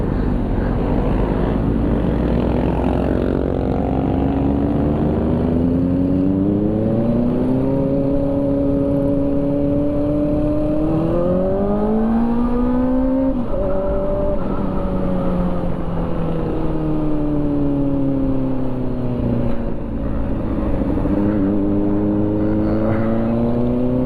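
Kawasaki motorcycle engine fitted with an SC Project exhaust, a loud, steady drone close by whose pitch rises and falls through several rev swells across the clip, with no talking.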